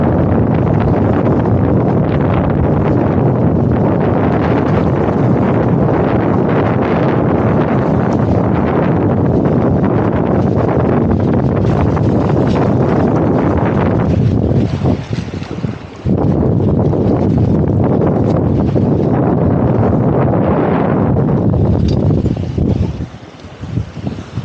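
Strong wind at a large lake roars steadily across a microphone near the shore, buffeting loudly with a brief lull partway through.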